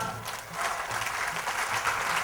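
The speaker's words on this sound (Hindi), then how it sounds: "तालियां बजाओ जोरदार।" An audience claps together at a devotional night jagran for Sri Sonana Khetlaji in Bangalore, a continuous mid-level patter of many hands with slight swells and no speech.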